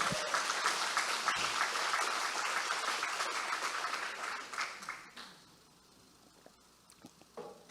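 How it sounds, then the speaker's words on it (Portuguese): Congregation applauding God during a Portuguese-language church service: broad, dense clapping fills the room for about five seconds, then fades to scattered claps and quiet. "Quem vai aplaudir a Deus direito aqui?"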